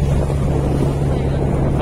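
A motorboat engine drones steadily at sea with a low, constant hum, mixed with heavy wind buffeting the microphone and a wash of water noise throughout.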